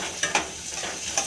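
Bhola fish frying in a pan, a soft steady sizzle of hot oil with a few brief scraping or stirring clicks, close and moderately quiet.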